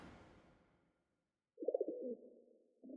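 A bird coos in an anime scene, a soft dove-like call with a quick run of pulsing notes followed by a second coo, heard alone after a fading rumble and a short silence.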